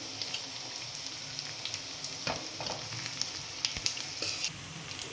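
Egg sizzles quietly in a pan while being stirred for egg fried rice: a low, continuous hiss with a few sharper scrapes and clicks of the spatula, no talking.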